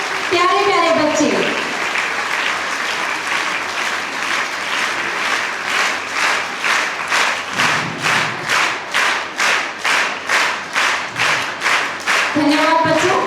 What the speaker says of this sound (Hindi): जोरदार तालियों के साथ इन सभी का स्वागत, अभिनंदन करते हुए हमारे प्यारे प्यारे बच्चे